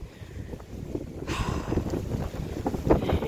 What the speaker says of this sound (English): And that wind again.